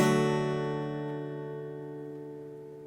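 A single guitar chord strummed once, ringing out and slowly decaying with no other sound.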